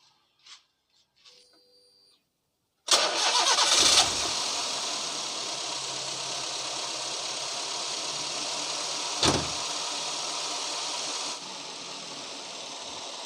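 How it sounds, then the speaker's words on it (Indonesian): A Daihatsu Gran Max engine, overheating, cranks and catches with a loud burst, then settles into a steady, close idle that hums on with a brief rise partway through. "Lalu yang selanjutnya kita hidupkan mesin sampai jarum dari temperatur itu"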